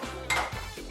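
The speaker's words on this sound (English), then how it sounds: "Mix it all nicely together." About two tablespoons of mayonnaise and a tablespoon of tomato ketchup being mixed in a bowl, a brief close scrape and clink of utensil against dish over low background hum.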